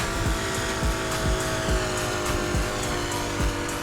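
Nissan Skyline 2000 GT-R HakoSuka race build driven hard in Need for Speed Heat, a loud, continuous engine roar with rapid rhythmic thumps and hints of tire squeal, up close with no voices.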